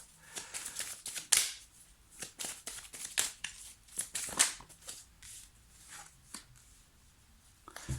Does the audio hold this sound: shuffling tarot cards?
yes